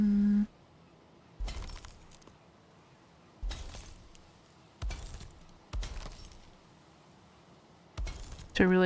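Glass window pieces being placed while building an Eitr refinery in a video game, heard as five separate crisp shattering clinks spaced a second or two apart, each a short bright burst over quiet background.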